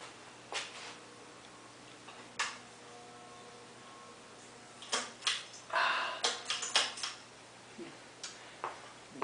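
A 48-inch CEC Toastmaster Spinner ceiling fan runs noisily, with a faint steady hum under scattered irregular ticks and clicks that bunch together in a louder rattling burst midway, heard close in a quiet room.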